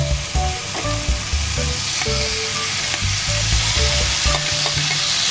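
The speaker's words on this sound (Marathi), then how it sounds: "आता इथे मी टाकणार आहे जे आपण स्मॅश केलेलं वांग आहे ते आपण इथे टाकूया." Smashed eggplant for baingan bharta fries loudly in a hot pan while being stirred, a steady close sizzle broken by scraping and clinking of the spoon against the pan.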